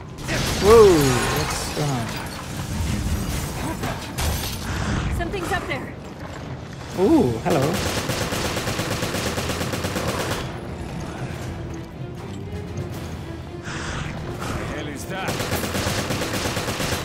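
Gunfire in Resident Evil: Revelations during a boss fight aboard a ship, bursts of rapid mechanical shots and clattering effects over game music, with a player talking throughout.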